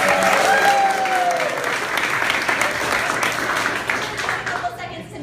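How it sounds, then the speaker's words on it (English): A theater showcase audience breaks into loud applause for a panel of experts, with dense clapping filling the whole stretch and a few brief voices and whoops mixed in. "So let's give them a round of applause."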